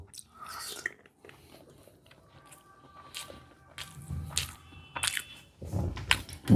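Close, soft chewing and light crunching as Vishnubhog prasad with soft potato and cubed paneer is tasted, scattered mouth sounds with brief quiet gaps between bites.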